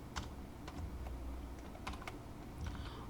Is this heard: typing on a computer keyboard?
yes